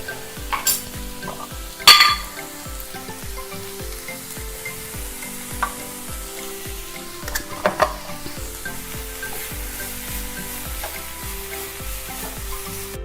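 Cabbage and pepper powder sizzle steadily in a frying pan while making a chicken sandwich filling, with sharp scraping clatters from stirring near the start and again around the middle.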